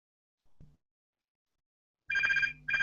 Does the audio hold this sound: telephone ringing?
yes